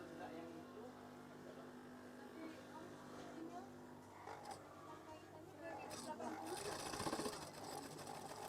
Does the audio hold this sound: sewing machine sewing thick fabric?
yes